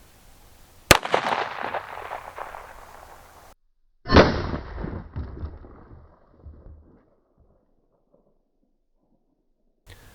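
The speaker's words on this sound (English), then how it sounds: "let's put it through its paces and shoot it anyway" Two loud gunshots from a .460 S&W revolver fired at level 3+ body armor, each a sharp crack followed by a rolling outdoor echo, spaced a few seconds apart, then quiet.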